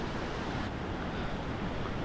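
Heavy monsoon water rushes through a rocky stream in Konkan, a dense, steady roar with no breaks, close and fairly loud throughout.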